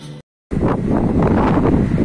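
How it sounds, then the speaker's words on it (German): Wind on the beach at Playa del Ingles, Gran Canaria, a loud steady roar and buffeting against the microphone, briefly cut off before it continues unbroken. "ihr merkt allein schon an dem Ton, es ist jetzt auch nach 14 Uhr und es ist windig geworden"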